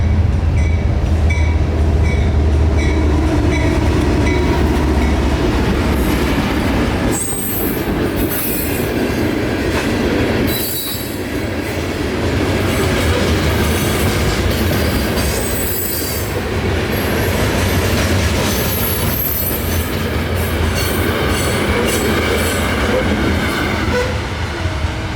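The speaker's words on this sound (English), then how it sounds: "This rock train, brought back for peak season, is headed right there." A freight rock train rumbles steadily past close by, wheels clacking over rail joints and squealing at times, with no voices.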